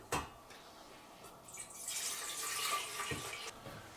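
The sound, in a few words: pouring water into a steam kettle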